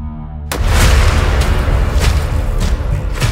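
Loud gunfire during a military firing drill at a Yemeni army training camp, with heavy booming bursts rolling together after a short quiet lead-in and continuing densely throughout.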